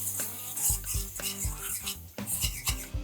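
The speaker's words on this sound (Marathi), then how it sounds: "मसाले तेल सुटेपर्यंत आपल्याला परतवून घ्यायचे." Spices being stirred and sautéed in hot oil in a pan for a spicy Pandharpur-style bazaar amti, with repeated scraping strokes of a spoon against the metal and a steady sizzle underneath, close and fairly loud.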